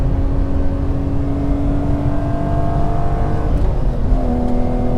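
A BMW E46 M3 drives with a loud, steady engine note held close and continuous, its pitch climbing gradually, then dipping briefly with a gear change before settling at a new level.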